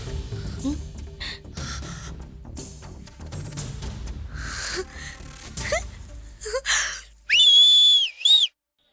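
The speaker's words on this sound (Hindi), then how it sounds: "किसने बजाई है सीटी?" A whistle blown sharply twice near the end, loud and close, cutting in after a noisy stretch of commotion and voices at a wedding being stopped in a film scene.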